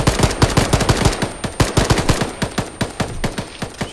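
Sustained machine gun fire in the military shooter ArmA, a loud, close stream of rapid evenly spaced shots that runs almost unbroken, with no talking.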